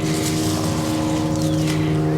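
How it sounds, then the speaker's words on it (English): Steady road traffic noise outdoors, a continuous droning engine hum with a low tonal rumble, moderately loud and unbroken throughout. "In addition to the road noise"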